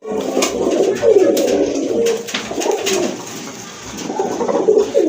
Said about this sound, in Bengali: সিলভারের ভিতরে খুবই সুন্দর এক জোড়া কবুতর, বাঘা সিলভার কবুতর